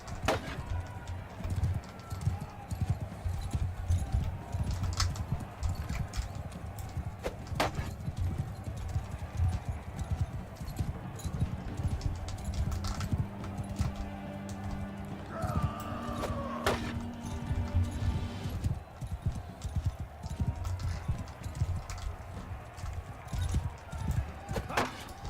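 Horse hooves galloping in Mount & Blade 2 Bannerlord, a rapid steady clip-clop running close throughout alongside battle clatter and a brief tonal game sound, with a person talking over it.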